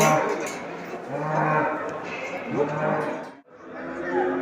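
Cattle moo loudly and repeatedly at the Ankara Çubuk live animal market, with long drawn-out lowing calls close by and a busy background of market noise.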